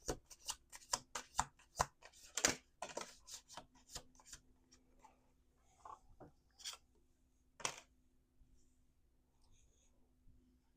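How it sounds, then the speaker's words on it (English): Tarot cards shuffled quietly in a series of quick papery riffles and taps close by, clustered at first then thinning out to a few soft isolated flicks. "Two more shuffles."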